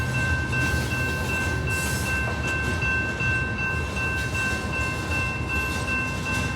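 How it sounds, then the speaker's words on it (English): A train rolls past in Plymouth, Michigan, making a steady, loud rumble with clattering wheels and a faint high squeal throughout, and no voices. "I think I see the end of the train."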